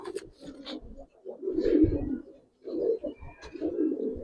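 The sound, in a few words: silver pigeons cooing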